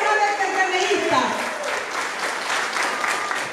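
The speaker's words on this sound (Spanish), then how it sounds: "Fuerte el aplauso para esta pareja de entrevistas." A crowd applauds a couple, a Partido Revolucionario Moderno figure and his wife Socorro Concepción, at a gathering; a brief tone opens it, then sustained clapping fills the rest under a faint voice.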